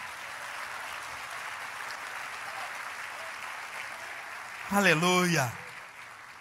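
Church congregation clapping at a conference service, a sustained crowd applause running steadily throughout, with a voice calling out briefly over it near the end.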